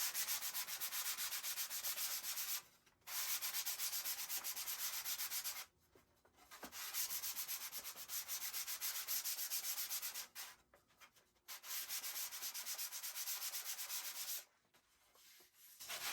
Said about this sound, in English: So I have some fine sandpaper. I'm just using a box today, but you can use a block of wood and then just sand it.